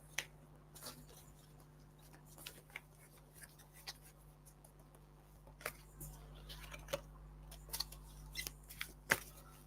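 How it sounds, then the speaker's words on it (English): Soft, scattered card riffles and taps in a quiet room, irregular and fairly faint, with a low steady hum underneath. "Let me just shuffle the cards."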